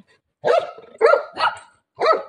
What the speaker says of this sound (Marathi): वो बिल्ली को देख के चिल्ला रहे.